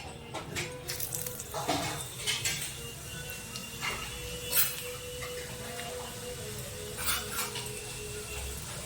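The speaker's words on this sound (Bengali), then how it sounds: "আলু ভাজার তেলের মধ্যে এলাচ, লবঙ্গ, দারচিনি থেতো করে দেওয়া হবে।" Crushed cardamom, cloves and cinnamon dropped into hot oil left from frying potatoes, giving a faint steady sizzle broken by clinks and scrapes of a spoon against the pan.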